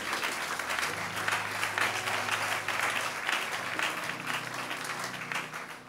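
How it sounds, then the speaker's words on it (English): A church congregation claps hands in appreciation after a prophecy sermon, sustained dense applause with a low hum of voices and sustained organ-like tones beneath. "Clap your hands and appreciate the word of the Lord."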